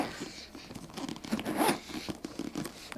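A beauty case from an Oroton outlet has its zip pulled open in one continuous rasping run, close and clear, with a louder tearing burst near the middle and faint crinkling around it.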